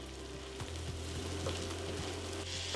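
Spices and a teaspoon of tomato paste sizzle in a pan for a beef short ribs masala, with a steady quiet frying hiss and soft scraping taps from stirring at a close distance.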